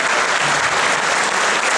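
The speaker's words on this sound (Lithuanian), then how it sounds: "Jūsų aplodismentai Gryčiai." Audience applause at an outdoor-style folk band festival, a dense, even wash of clapping from a crowd, loud and sustained throughout with no speech.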